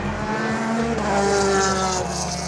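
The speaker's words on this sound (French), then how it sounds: "On entend le bruit des voitures, ça fait plaisir." Race cars roar past at the 24 Hours of Le Mans, among them a new Aston Martin prototype, with loud sustained engine noise and shifting revs filling the whole stretch.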